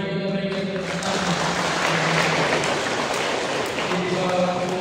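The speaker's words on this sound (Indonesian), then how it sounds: "Mari kita berikan tepuk tangan." Wedding guests applauding a choir, steady hissing clapping throughout with a voice talking over it.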